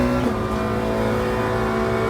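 A race car in the sim Le Mans Ultimate passing on track, its engine a loud, steady, buzzing drone with a slight pitch shift early on.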